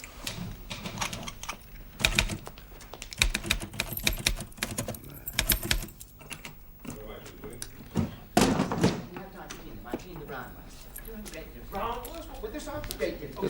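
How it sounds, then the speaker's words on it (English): A typewriter clatters in quick uneven bursts of keystrokes with heavier thunks and a carriage-like clunk, mixed with voices talking and some background bumps. "Isn't that Willie's typing?"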